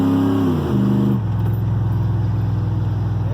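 A truck engine drones loudly from inside the cab, dropping as a gear changes and then holding a steady, rough low pull while accelerating down the road.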